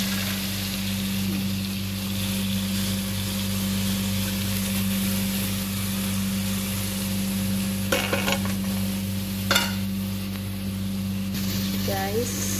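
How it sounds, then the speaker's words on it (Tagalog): Tuna pasta with coriander sizzling in a pan while being stirred and sautéed, a steady frying hiss with a few sharp utensil scrapes, under a speaking voice. "mix lang natin maigi, gisa maigi"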